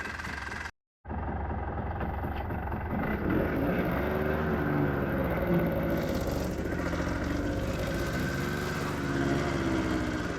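A 1985 Honda Odyssey 350 FL350R runs close by after a brief dropout, its engine holding a steady, buzzy rumble with slight rises and falls in pitch.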